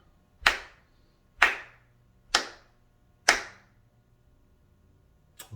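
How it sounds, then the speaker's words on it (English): Four sharp, evenly spaced hand claps ring out loud and close in a slow, steady rhythm for dictation practice, followed by a faint fifth clap at the very end, with no talking. "I would clap the rhythm"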